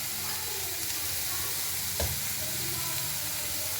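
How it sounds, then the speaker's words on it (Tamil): Small cut pieces of tofu frying lightly in a pan, a continuous even sizzle and hiss with a single soft knock midway, heard alone without talk. "இப்போ நம்ம ஸ்மால் பீஸாக கட் பண்ண டொஃபு போட்டு கொஞ்சம் லைட்டாக ஃப்ரை பண்ணி எடுத்துக்கலாம்"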